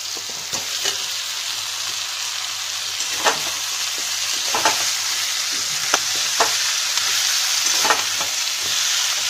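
A fish head fries in a pan for a Bengali muri ghonto, giving a steady close sizzle broken every second or so by scraping stirs of a spoon, with no voices.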